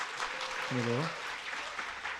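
A church congregation applauds during a Korean New Year's Eve worship service, a steady patter of clapping running under a man's brief spoken word.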